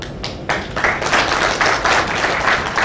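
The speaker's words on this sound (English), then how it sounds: "Let us have a good applause for her." Audience applause following a technical presentation at a steel plant session, many hands clapping together in a dense, fairly loud burst that starts abruptly and keeps going steadily to the end.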